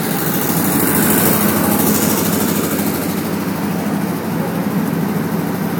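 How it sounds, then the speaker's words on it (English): A Pramac GSL65D diesel standby generator runs under load, feeding an ATS panel, with a loud, steady engine drone and a strong low hum that holds evenly throughout, no talk. "Now the generator is supplying power to the ATS panel."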